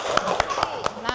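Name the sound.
classroom applause, students clapping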